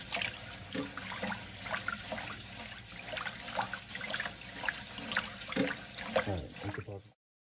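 Sushi rice washed by hand in water, with steady splashing, swishing and trickling, close and continuous for about seven seconds before cutting off.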